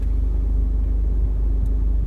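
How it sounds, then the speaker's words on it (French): A car engine idles just after starting, a steady deep low rumble that is loud, close and unbroken throughout, heard from inside the vehicle. "Une fois dans la voiture, on démarre pour ne pas avoir de coupure électrique."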